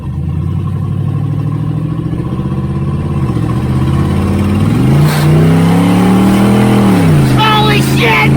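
A car engine roars loudly and steadily, its pitch climbing and dropping as it revs up close, with a voice exclaiming over it.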